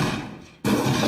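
A dense, loud burst of layered impact noise that cuts out briefly, then slams back in with a full, heavy thud and rumble.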